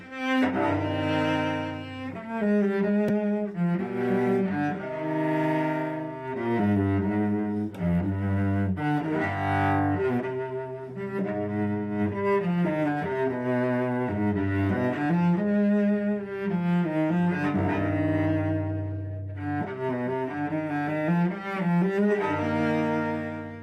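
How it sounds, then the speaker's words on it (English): A solo cello plays the opening of the Allemande from Bach's fifth cello suite in normal tuning. It is a steady, resonant stream of bowed notes and chords that carries on without pause. "here is the very beginning of the Allemande from the 5th suite, written for normal tuning"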